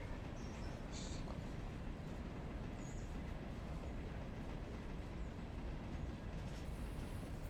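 A heavy freight train of about 496 tons rolls steadily along the rails in a railroad video game, giving a continuous low rumble with faint clicks and no pauses.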